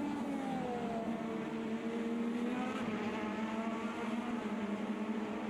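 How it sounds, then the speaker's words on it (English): Race cars lapping a circuit in a racing video game, their engines making a steady, continuous drone that holds at a moderate level throughout, with no talking. "Gets an overtake done there on PX Otto."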